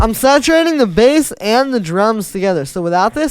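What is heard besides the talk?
No everyday noises stand out.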